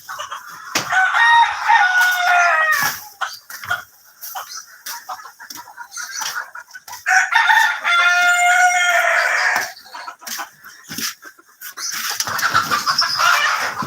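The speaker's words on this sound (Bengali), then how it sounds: "এটা হচ্ছে আমাদের বাফ ব্রাহ্মা, এটা হচ্ছে মেল, আর এইগুলো হচ্ছে ফিমেল" A Buff Brahma rooster crows loudly several times in separate bursts, with hens clucking in between in a close, quiet farm setting.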